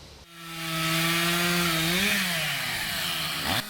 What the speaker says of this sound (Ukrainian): По кілька десятків дерев за зміну ріже лісоруб Віктор Юрченко.